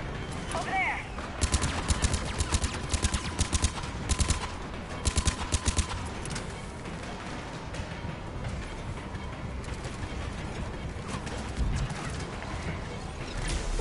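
Gunfire in the Mass Effect 3 video game, rapid rattling bursts of automatic shots in clustered volleys over the first half, then steadier rumbling combat noise, moderately distant and fairly quiet.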